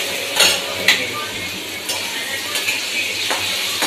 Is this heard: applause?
no